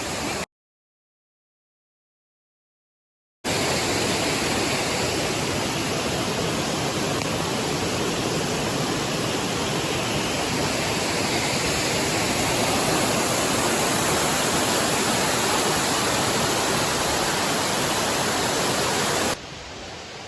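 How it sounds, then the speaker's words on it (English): Steady, dense roar of a waterfall along a trail, loud and continuous broadband rushing that holds evenly for about sixteen seconds after a brief silent gap. "The closed section right now that goes along the waterfall."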